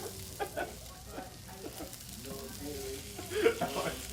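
An omelet sizzles in a frying pan with a soft, steady crackle and occasional stirring, fairly quiet, while faint voices murmur in the background.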